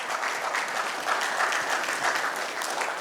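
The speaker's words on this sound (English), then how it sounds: "A big round of applause for all of them." Full, even round of applause from an audience at a company event honoring the organization's women, continuous and fairly close for a few seconds with no talk.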